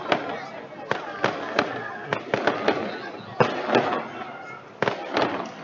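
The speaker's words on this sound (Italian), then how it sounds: "So che siete più attirati dai fuochi d'artificio" Fireworks bursting during an outdoor celebration for a church's anniversary in Favara, a rapid series of sharp cracks and booms with crowd noise and voices in the background.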